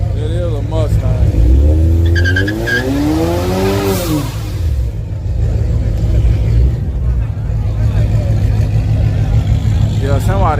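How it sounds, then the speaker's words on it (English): A turbocharged V6 Mustang does a burnout, with a loud close engine rev and rising squealing tires early on, then a steady roar of engine and tire noise under excited talk. "Probably did one of them turbo V6 burnouts and pissed somebody out."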